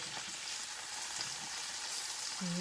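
Sausages sizzle steadily in a hot pan, a dense crackling hiss that runs the whole time, with a faint voice-like hum near the end.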